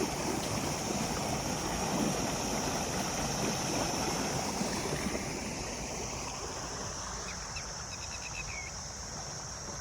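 Irrigation water gushing from a motor-fed pipe into a maize field plot, a dense continuous rushing flow, loud at first and easing slightly toward the end, with faint birds in the background.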